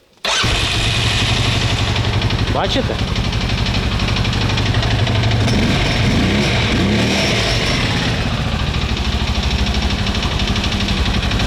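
A small Terracross ATV engine cranks and catches, then settles into a steady, loud idle that runs on alone; a voice speaks briefly near the start.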